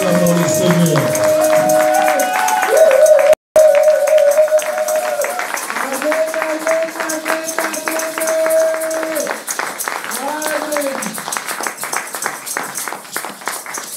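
A church congregation claps and applauds in praise of the Lord, a steady rhythmic patter of many hands running throughout, mixed with voices and sustained sung or musical tones.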